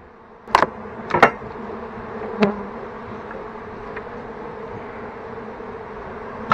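Honeybees buzzing at a nest inside a house being demolished, a steady low hum with a few louder close passes of individual bees.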